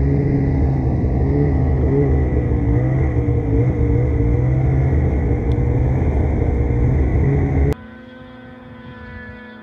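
A turbocharged snowmobile engine roars loudly at high revs on a windy hillside, its pitch wavering, then cuts off abruptly to a lower idle hum.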